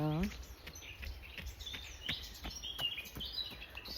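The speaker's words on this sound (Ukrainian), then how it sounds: "Пташки співають голосніше за мене" Outdoor morning birdsong with scattered chirps and tweets at moderate distance, faint and intermittent over a quiet background, with brief sounds of a person nearby.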